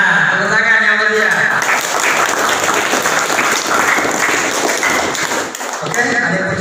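A crowd applauds at a Scout training session at a junior high school, dense clapping swelling loud and steady for several seconds after a voice speaks over the opening.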